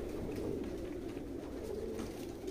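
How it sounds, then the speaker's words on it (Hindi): Pigeons cooing in a loft: a low, continuous murmur of overlapping coos from many birds, steady and moderately faint, with no voices over it. "देखिए दोस्तों, सभी कबूतर बहुत ही अच्छी कंडीशन में है"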